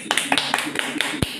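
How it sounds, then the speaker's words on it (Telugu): Audience clapping at a Telugu-language gathering, a short burst of scattered, uneven claps rather than a full roar of applause. "దానికోసం ఒకసారి చప్పట్లు కొట్టండి."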